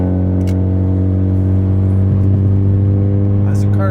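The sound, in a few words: two-stroke car engine revving, sounding like a dirt bike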